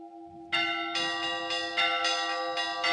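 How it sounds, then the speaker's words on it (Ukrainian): Church bells in a village church peal loudly and close, several strikes ringing out in an irregular sequence over a steady low hum, with a sustained tone heard before the first strike. "Так гучно тут завжди били у дзвони, що чутно було геть за селом."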